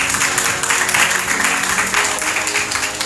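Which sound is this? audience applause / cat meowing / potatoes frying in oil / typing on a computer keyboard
audience applause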